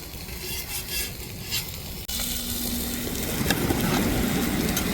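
Ora fish frying in a pan by the seashore, giving a steady close sizzle with crackling spatters that grows denser after a brief cut, with no talk.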